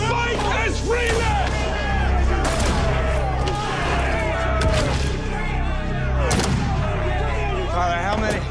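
Volleys of gunfire ring out in a dramatized Harpers Ferry raid, repeated sharp cracks and booms over a dense, loud battle bed with shouting voices throughout.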